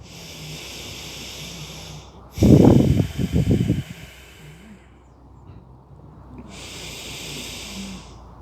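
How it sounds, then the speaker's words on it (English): Deep breathing while holding a yoga runner's lunge: one heavy, drawn-out breath swells near the middle, set over soft, steady background music. "And just hold it for a couple of breaths, breathing really deep."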